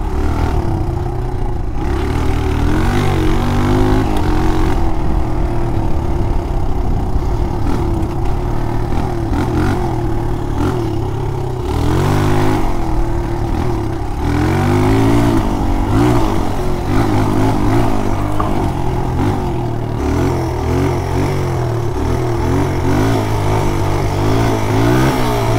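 A dirt bike engine runs loud and close for the whole stretch, its steady idle rising and falling through repeated throttle blips, with a mechanical clatter riding along underneath.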